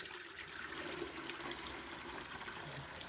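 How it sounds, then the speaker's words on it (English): Water pours steadily into a bucket in a goat-milking setup, a continuous rushing splash at low level with no talk. "So I take this and I fill it about 1/3 of the way, maybe just under half with water."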